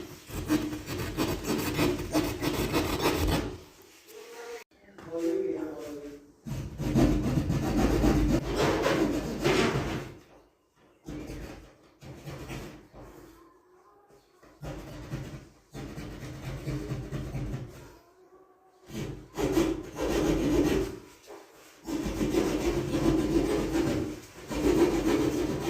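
A hacksaw cuts through material to fit a downlight, giving close, rasping back-and-forth strokes in bursts with short pauses between runs of sawing and no talk.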